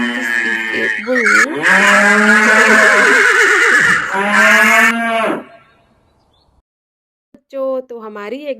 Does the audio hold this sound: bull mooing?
yes